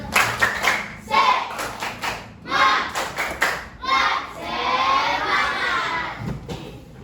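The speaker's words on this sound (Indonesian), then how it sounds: "Lebih kuat lagi. Tepuk semangat." A group of schoolchildren performs a rhythmic spirit-clapping chant in a classroom, bursts of claps and young voices shouting together in several rounds, loud and close.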